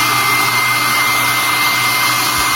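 A weak hair dryer blows steadily on a Brastemp frost-free duplex inverter refrigerator to hurry its defrost, a loud, even whir and hiss that runs without a break.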